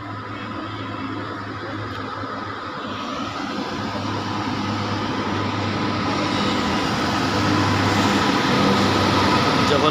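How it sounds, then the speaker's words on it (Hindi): Shaktipunj Express rolling into Kulti station, a low continuous rumble of the train that swells gradually louder over the stretch, with faint background voices on the platform. "तो गाइस देख सकते हैं शक्तिपुंज ट्रेन कुल्टी स्टेशन में आ चुकी है।"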